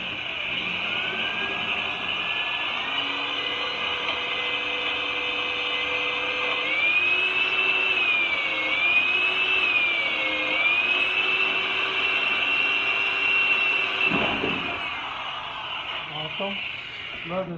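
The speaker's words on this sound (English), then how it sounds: "Love this angle drill." A corded angle drill whines steadily near a Jeep Wrangler JK front fender, its motor pitch rising and dipping as it bites into the metal, then stopping abruptly near the end, followed by brief handling noises.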